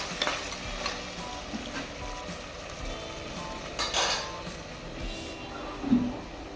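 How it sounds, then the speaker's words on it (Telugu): Mutton trotter pieces fry in oil over a medium flame, a steady soft sizzle under occasional scrapes of a spoon stirring against the pan. "ఒక్క ఐదు నిమిషాలు మంచిగా మీడియం ఫ్లేమ్లో ఈ కాళ్ళ ముక్కలు అనేటివి ఆయిల్లో మగ్గనివ్వాలి"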